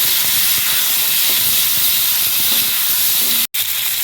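Whole spices, raw tomatoes and whole green chilies fry hard in a pan for Bengali ayala fish curry. A loud, dense hiss and sizzle carries throughout, with faint stirring knocks and a brief dropout near the end.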